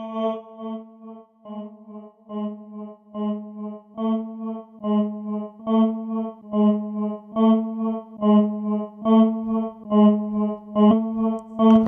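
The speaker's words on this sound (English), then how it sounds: "this is the effect, which is a hall reverb effect" A live looping rig layers sustained harmonic tones that swell in repeated phrases, each washed in a spacious hall reverb that trails and blends into the next, steady and fairly loud with no voices.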